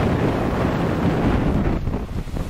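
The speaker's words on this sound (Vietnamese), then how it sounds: "Gió quá các bạn ơi." Strong outdoor wind buffets the microphone in a loud, continuous rumbling roar that eases slightly near the end, with no voices.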